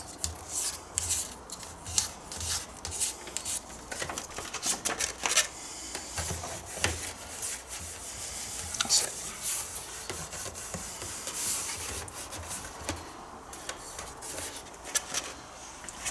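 Sandpaper rubs over a painted car door mirror in short, irregular scratchy strokes, close and fairly quiet, with brief pauses between passes and no talking.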